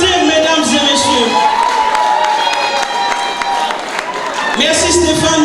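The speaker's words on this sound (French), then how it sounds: "Est-ce qu'on peut applaudir, mesdames et messieurs?" Wedding guests at an evening reception clap and cheer together, a loud, lively crowd with whoops and shouts through the whole burst, which swells again near the end.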